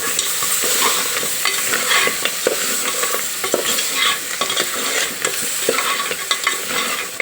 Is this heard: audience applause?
no